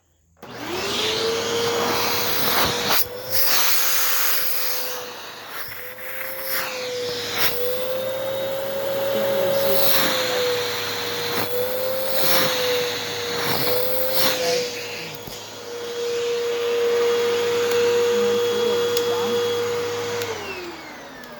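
A Hoover Wind Tunnel 2 upright vacuum cleaner runs steadily and loudly close up, a continuous motor whine with airflow roar that shifts slightly in pitch as it moves, with no talking over it.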